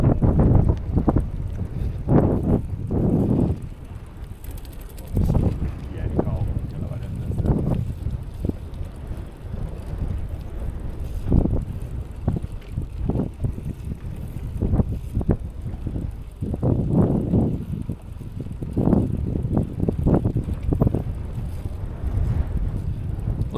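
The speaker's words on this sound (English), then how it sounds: "A little bit of wind here" Wind buffets a microphone outdoors near a gravel pit, a loud low rumble that rises in repeated gusts over about twenty seconds with no one talking.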